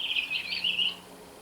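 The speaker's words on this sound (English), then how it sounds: "a happy little bird who loves to chirp and cheep all day" A cartoon baby bird chirps and cheeps in a quick, high, twittering burst, clear and close, fading out after about a second with no voices.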